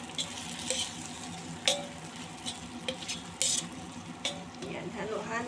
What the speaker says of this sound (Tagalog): saka ilagay natin yung ating sliced onion. Igisa lang natin yan hanggang mag-translucent yung kulay niya.